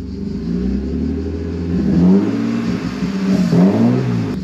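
A BMW E36 325i with its catalytic converter removed, an M3 intake and a rear silencer revs up loudly and close by. The engine drone rises and falls in a couple of strong pulls, and nobody speaks.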